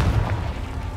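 A Confringo blasting spell goes off in Hogwarts Legacy, a dull low boom with a rumbling tail that carries through the whole second at moderate loudness, with no voices.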